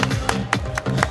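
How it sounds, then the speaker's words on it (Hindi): At a family get-together, a handful of distinct claps land at a regular, unhurried pace, sharp and fairly close, with a voice speaking underneath. "तालियां बजा दीजिए प्लीज"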